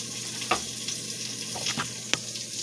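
Bacon fries in a pot for pinto beans, a steady close sizzle with a few sharp scraping clicks as it is stirred; no talking.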